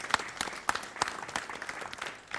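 Audience applause for traditional Irish music performers at a live event, a moderate crowd clapping steadily with scattered sharp claps, fairly faint and distant, with no voices over it.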